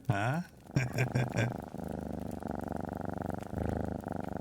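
A cat in the survival video game The Long Dark purrs in a soft rhythmic rumble following a short burst of synthesized game tones, the pulsing purr continuing steadily to the end.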